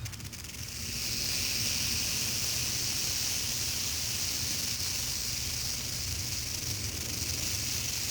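Rattlesnake rattling, a dense continuous buzzing hiss that starts within the first second and holds steady and loud to the end, with no voices.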